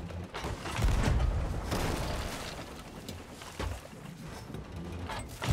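Rapid booming blasts and thuds of cannon fire at a fort in Sea of Thieves, one shot after another, loud and cluttered with rumbling impacts.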